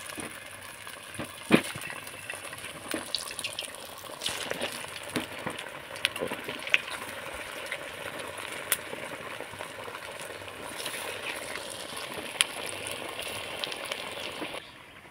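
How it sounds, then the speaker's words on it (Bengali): Semolina and potato snacks fry in hot oil over low heat, a continuous close bubbling sizzle with scattered crisp pops and occasional clicks throughout. "তো নাস্তাগুলোকে আমি ধীরে আঁচে সময় নিয়ে মুচমুচে করে ভেজে নেব।"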